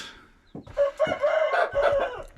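A breeding rooster crows loudly and close by, a long wavering call rising and holding over a second or more, with brief clucks before it.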